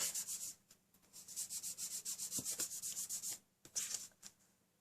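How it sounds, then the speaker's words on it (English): Paper rubbed from behind to stick down a card border, a quiet close-up series of quick rhythmic brushing strokes with a brief pause near the end. "And I'm just rubbing from the back."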